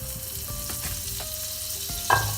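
Steady sizzling of butter frying in a pot, with a few faint clinks and a brief louder scrape near the end; no voices.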